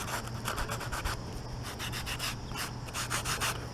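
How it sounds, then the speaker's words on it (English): A fine-grit foam sanding block rubs back and forth over puttied corners of a picture-mirror frame, a close, quiet, rhythmic scratching in quick strokes with short pauses. "I'm going to take a foam sanding block, fine grit, and sand off some of these corners"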